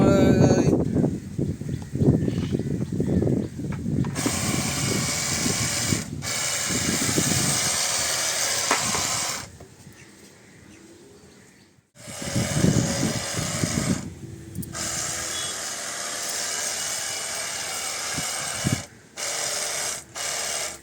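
A battery-powered garden sprayer applies a buttermilk solution on a terrace garden, giving a steady mechanical buzz and hiss in long bursts broken by short pauses. A person talks over it.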